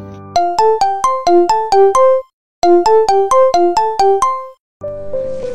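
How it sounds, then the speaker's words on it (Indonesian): A mobile phone ringtone plays a bright, repeating chime melody in two loud bursts separated by a short pause, then a third phrase begins. "tiba-tiba ponselnya berdering"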